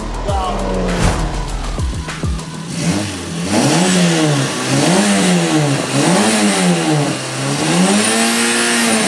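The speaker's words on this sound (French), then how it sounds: "Pour cette 106 de rallye, Nicolas à son volant est habitué au rallye" A Peugeot 106 rally car at a drift or motorsport final, its engine revving hard in repeated rising and falling surges, loud and close, after a few sharp pops and bangs at the start.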